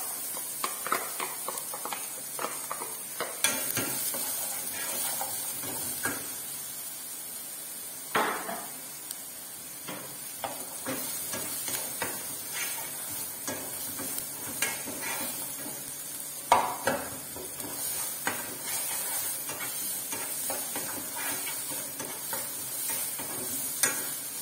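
Onion frying in a pan for chicken stroganoff, a steady close sizzle running throughout with occasional stirring clatter and utensil knocks, no talking.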